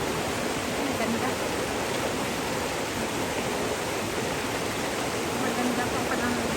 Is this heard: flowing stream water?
yes